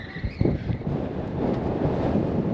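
Strong wind buffets the microphone at a Nullarbor campsite at the Head of the Bight, a steady rushing roar with gusty surges, close and fairly loud, with no voices.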